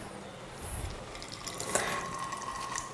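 Beetroot juice wrung from pulp in a cloth, trickling and dripping into a vessel in a home kitchen; a soft, steady liquid patter at low level with a brief splashy burst midway, no talking.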